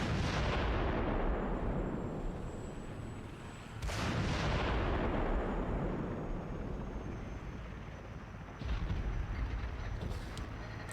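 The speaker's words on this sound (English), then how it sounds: "Control of the mortars and use them to blow the barricade." Mortar fire blasting a barricade in the Haze video game, three heavy booming blasts spaced a few seconds apart, each a loud crack followed by a long rolling rumble that fades.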